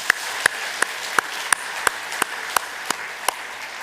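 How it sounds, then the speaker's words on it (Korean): A church congregation at a Sunday worship service claps for the choir in a steady, evenly spaced rhythm of about three claps a second, crisp and fairly close, with no talking. "감사의 박수를 올리겠습니다."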